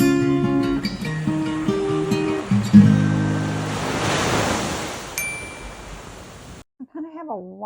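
Ocean waves surge at high tide on a beach in a broad rushing wash, with bright chiming tones early on, then a sudden drop to quiet and a short voice at the end.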